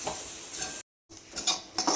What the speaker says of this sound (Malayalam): ഒരു മുറി നാളികേരം ചിരകി വെച്ചതാണ്. അതും കൂടി ഒന്ന് വറുത്തെടുക്കാം.